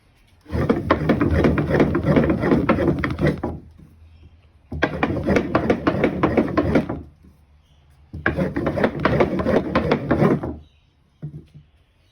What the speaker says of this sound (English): what we're going to do is use pressure and friction in order to generate heat